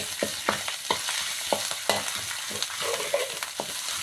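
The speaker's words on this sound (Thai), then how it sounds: "มาพี่น้องผัดพริกกันเลย พริกผัดเผ็ดกะปิ" Chili paste with shrimp paste stir-fries in a pan for a spicy Thai snakehead fish dish, a soft sizzle running under repeated scraping strokes of a spatula roughly every half second.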